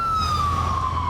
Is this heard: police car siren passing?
yes